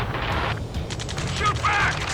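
Gunfire in the flight combat game Ace Combat 7, a dense rattle of shots under game dialogue and engine noise, loud and continuous through the short stretch.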